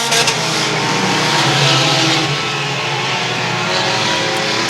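Pure stock race cars racing on a track at night, a loud continuous roar of engines, close and steady with no break, under no clear talk.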